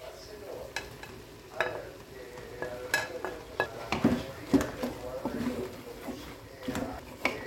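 Capybara meat tipped into a pan of frying onions for escabeche sizzles under repeated stirring scrapes and utensil clinks, with a few faint voices in the background.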